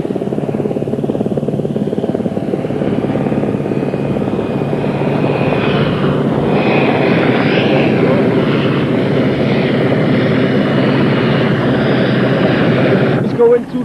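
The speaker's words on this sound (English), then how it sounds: "So we can see the Sea King helicopter just coming in now." A Sea King helicopter flies in over Aberavon Beach during an RNLI open day, its loud steady rotor and engine roar filling the whole stretch, with a voice talking over it.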